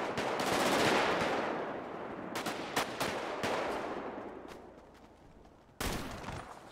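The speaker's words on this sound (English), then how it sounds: "Somebody shooting me, bro." Bursts of automatic gunfire in a GTA 5 street shootout, a loud rattling volley up front followed by scattered sharp shots and a final close burst, no talk.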